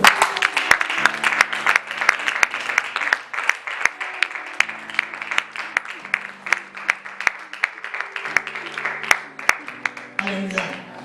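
A church congregation claps in a steady rhythmic beat throughout, with a sustained tonal background and voices mixed in under the clapping.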